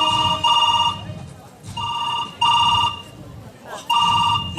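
A telephone rings in repeated electronic trill bursts, three evenly spaced rings with pauses between, loud and close over a low background murmur of voices.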